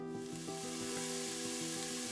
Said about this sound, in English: the onions and the celery are cooking in the olive oil